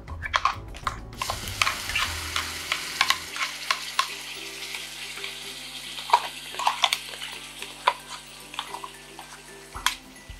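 Ground chutney hits hot tempering seasoned with a pinch of asafoetida, giving a steady close sizzle with scattered crackles and the scrape of stirring, and no voices.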